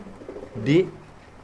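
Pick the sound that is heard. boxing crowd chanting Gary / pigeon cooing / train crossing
pigeon cooing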